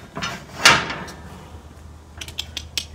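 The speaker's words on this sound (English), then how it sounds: "And let's open the stall door." A horse stall door in a barn is opened, giving a loud sliding scrape and bang near the start, followed by softer rattles and a few light clicks and knocks later on, close and without speech.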